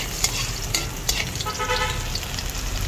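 Garlic sizzling and frying in hot cooking oil while being stirred, a steady close crackle with a few scraping stir strokes, no talking.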